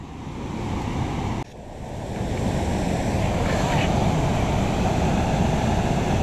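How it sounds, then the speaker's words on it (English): Rushing river rapids near a waterfall make a steady, loud broadband roar with heavy wind buffeting the microphone, briefly dipping before surging back and holding continuous throughout. "That's some rapids right there."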